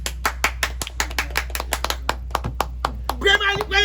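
Hands clapping in a Haitian public setting honouring William Joseph, a string of sharp, close claps in a loose rhythm, with a voice breaking in near the end.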